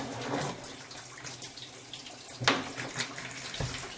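Hot water running steadily from a tap in a home plumbing setup with new copper brazed pipes, a close, even hiss and splash with a few small drips, fairly quiet.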